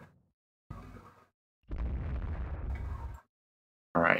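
Naval gunfire and shell impacts from the warship game Rule the Waves 2: three separate heavy booming bursts with gaps of silence, the longest a sustained rumbling roar of about a second and a half.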